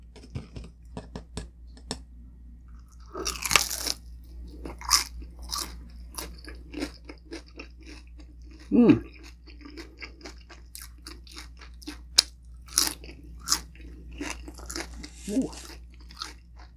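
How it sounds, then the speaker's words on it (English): Crispy pata pork skin dipped in vinegar is bitten and chewed, giving loud close crunches and crackles in an uneven rhythm, with a brief exclamation from a voice. "let's start with the crispy skin"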